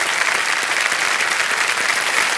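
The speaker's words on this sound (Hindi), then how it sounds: "तालियां बज जाए इनके लिए" Studio audience applause on the Kaun Banegа Crorepati quiz show set, a thick, even roar of many clapping hands that holds steady and loud for the whole stretch.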